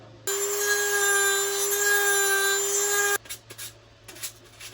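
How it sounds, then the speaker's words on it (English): A high-pitched Dremel rotary tool whines steadily for about three seconds as it grinds down a plastic part, then stops, followed by a few faint scraping and handling sounds. "draw a line, and Dremel this down to size"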